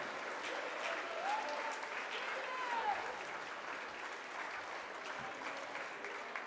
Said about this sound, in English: another round of applause for all of our seniors